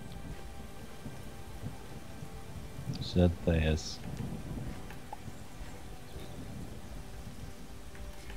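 Thunder rolls during a rainstorm in the video game Starbound, one loud crack-and-rumble burst rising over steady rain hiss, while someone speaks briefly.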